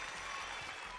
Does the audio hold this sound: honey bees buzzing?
no